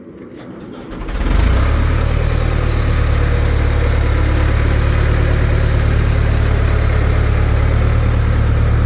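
An engine on a log sawmill fires up after a quiet moment and settles into a loud, steady idle, a constant low drone that runs unbroken to the end with no talk.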